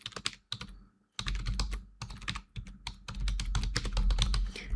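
Someone types on a computer keyboard up close in rapid bursts of clicking keystrokes, broken by short pauses, with no talking.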